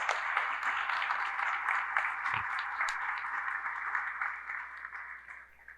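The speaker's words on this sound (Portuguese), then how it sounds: "Palmas para o anfitrião." Steady applause from an audience at a happy-hour event, applauding the host with continuous moderate clapping that fades slightly at the end.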